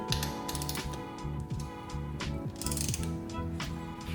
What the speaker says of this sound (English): Just gonna go ahead and tighten it down real quick.